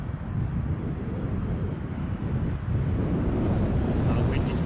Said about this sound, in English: Our wind is back now. You can probably hear